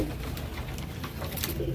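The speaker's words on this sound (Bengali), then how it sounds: "গিরিবাজ মুশকি গিরিবাজ পায়রা তো এটা অনেক বড় পায়রাটা" Pigeons at a pigeon farm in Nabadwip, including a large Giribaz Mushki, give low steady cooing that fills the whole stretch, close and continuous with no talk.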